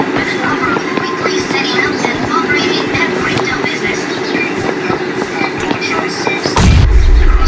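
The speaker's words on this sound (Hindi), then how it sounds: "एकदम से ही बम आया" A sudden heavy blast in PUBG Mobile, arriving near the end over a continuous rumbling, train-like game din with gunfire-like ticks, the low-end boom loud and close.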